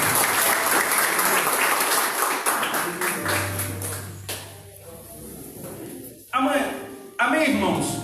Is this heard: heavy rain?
no